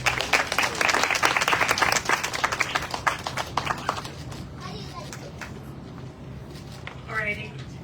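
Crowd applauds at a Miami public event launching a child drowning-prevention initiative, with loud clapping that tapers into scattered claps, while children's voices and chatter run underneath.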